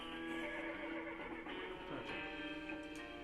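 A horse in West of Loathing neighs loudly and shakily in a sustained whinny, with faint hoof clopping beneath it, heard alone and up close.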